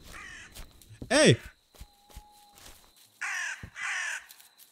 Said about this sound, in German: Ah, das ist ein Rabe.